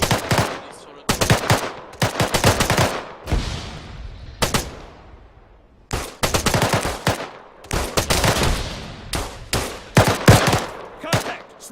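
Repeated loud machine-gun bursts in a military shooter game set in Zargabad, rapid rattling volleys separated by brief pauses, close and sharp with occasional faint voices in between.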